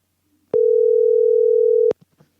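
A steady telephone dial tone hums alone for over a second after a call is hung up, cut off by a click, with faint handling noises after.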